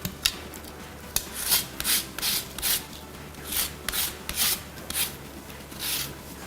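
Rhythmic rasping strokes of a zester scraping the peel of two large lemons, about a dozen short, crisp rubs in an uneven cadence, close up and alone.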